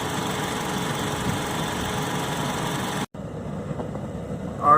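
A 2005–2015 Toyota Tacoma engine, warmed to operating temperature during a coolant flush, idles with a steady even drone; the sound drops out abruptly partway through, then returns quieter.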